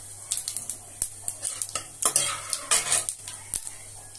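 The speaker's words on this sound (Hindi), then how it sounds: "मैंने थोड़े से कढ़ाई में तेल गरम कर लिया है और अब 1 टीस्पून जीरा," Cumin and nigella seeds hitting hot oil in a kadai, a light crackling sizzle broken by repeated clinks and scrapes of a spoon against the metal, no speech.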